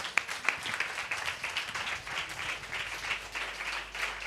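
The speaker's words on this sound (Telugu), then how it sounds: "చప్పట్లు కూడా దేవుడికి." A church congregation applauding during a service, a continuous patter of many hands at moderate distance with no speech over it.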